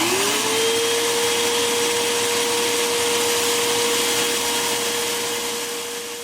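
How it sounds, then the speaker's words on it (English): A 12-amp plug-in vacuum cleaner runs on its own at full power, a loud steady motor whine with a rising pitch at start-up before it holds a constant tone, with no voices. "so that was the vacuum cleaner just by itself on."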